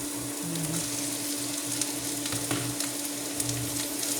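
Bitter melon (ampalaya) fries in a pan with a steady, close sizzle and crackle, interrupted by occasional scraping stirs and light clinks of a utensil against the pan.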